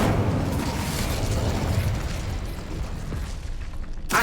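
Incendio fire spell from Hogwarts Legacy, a loud roaring whoosh of flame that holds steady for several seconds and slowly thins out, ending with a brief sharp crackle.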